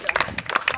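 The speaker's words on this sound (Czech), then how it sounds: "Hezky, zatleskáme." At an outdoor children's team dance event, a group claps briefly, giving a quick burst of several sharp, close claps in under a second.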